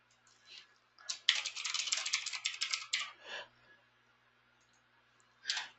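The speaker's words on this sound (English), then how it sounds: "My typing is really bad on Tuesday morning here" Fingers type on a computer keyboard in a dense burst of rapid clicking keystrokes lasting a couple of seconds, followed by a brief pause and a short final flurry, close and fairly quiet with no talking.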